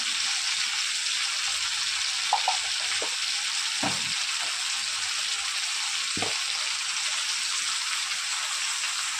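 A steady sizzle of frying in a pan while making a fish curry with raw pumpkin, with a few soft clicks and taps now and then and no voices.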